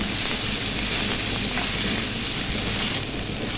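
Onions and cashews fry in a pan for an egg gravy with an even, constant hiss of sizzling oil and faint stirring, loud and close without any speech.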